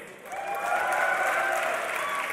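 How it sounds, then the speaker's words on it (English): A hall crowd at a League of Legends DreamHack semi-final cheers and applauds for Fnatic, a dense, loud wash of clapping and shouting that swells quickly and holds steady throughout. "I want to see who here is cheering for Fnatic."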